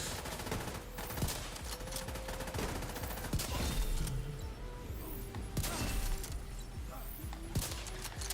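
Shotgun blasts and a steady barrage of gunfire in the shooter game The Division 2, loud and continuous, with repeated heavy shots across the whole stretch mixed with game effects.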